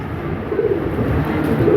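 A pair of red Lahori pigeons gives a low, continuous throaty cooing, close and fairly loud for the short stretch.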